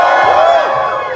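A convention crowd cheers and whoops together in a short, loud burst of mixed shouting voices filling a large hall.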